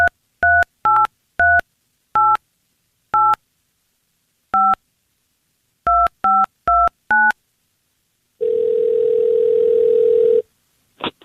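Telephone keypad tones dial out for a radio show call, a dozen crisp beeps in uneven bursts, followed by a steady two-second ringback tone and silence.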